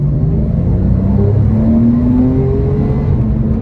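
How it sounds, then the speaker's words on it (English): A Porsche 911 997.2 with sport exhaust, set in Sport Plus, accelerates hard from a roll, its engine note climbing steadily in loud, close rising harmonics with no talk over it. "you throw on Sport Plus and your exhaust button. And this car goes"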